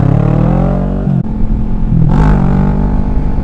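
A motorcycle engine revs hard during a second-gear wheelie attempt, a loud, close roar that dips briefly before climbing again in pitch, with no voices.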